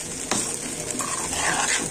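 Soaked flocão, flaked corn couscous meal, sizzles steadily as it browns in a pan, a close continuous frying hiss with faint stirring scrapes.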